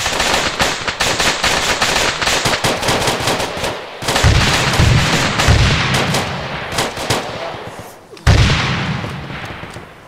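Gunfire in a co-op military shooter game, with rapid automatic bursts and heavy booming shots crackling densely and loudly, briefly pausing before resuming, while voices are faintly present.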